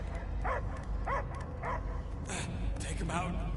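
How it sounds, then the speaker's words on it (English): Dog-like creature barking in the Guardians of the Galaxy video game, a few short barks and yips in quick succession over steady game background noise, with occasional voices. "I hear only barking."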